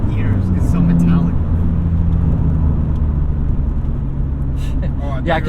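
A BMW E46 runs with a raspy, metallic, saw-like exhaust note that holds steady and loud throughout at a German car show, with people talking over it.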